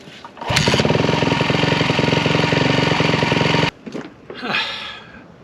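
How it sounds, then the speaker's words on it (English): A 1999 Yamaha YZ400F engine that sat unused for eight years barks to life and runs with a loud, rapid, even thumping for about three seconds, then cuts out abruptly, leaving faint rustling and handling noises. "Shuts right down right after I turn the choke off"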